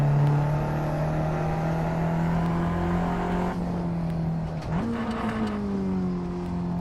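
A race car engine in the Assetto Corsa sim racing game holds a steady drone, then the revs drop and climb again around a gearshift with a short squeal, loud and alone.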